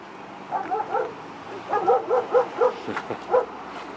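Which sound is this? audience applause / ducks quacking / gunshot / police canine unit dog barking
police canine unit dog barking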